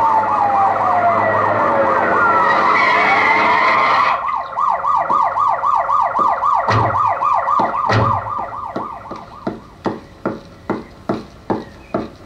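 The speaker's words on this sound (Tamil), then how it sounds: "நம்ம வண்டிக்கு முன்னால போற போலீஸ் ஜீப்ல இருந்து வர சத்தம் தான் சார்" A loud, wailing police jeep siren sweeps up and down rapidly, then shifts to a pulsing yelp that fades into sharp, spaced blips as it moves away.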